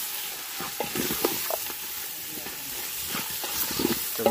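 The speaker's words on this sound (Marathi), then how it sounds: "तर आता ह्या चांगला मसाल्यात परतून घेणार." Meat coated in ginger-garlic masala is stir-fried in a pan for a Malvani curry, a soft continuous sizzle punctuated by repeated scraping and clinking of a ladle, fairly close and moderately quiet.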